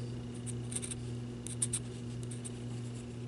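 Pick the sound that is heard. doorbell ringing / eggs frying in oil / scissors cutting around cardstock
scissors cutting around cardstock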